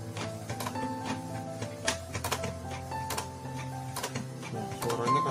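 A faulty Canon G2000 inkjet printer clatters and ticks unevenly, with rough grinding and rattling bursts running continuously at close range.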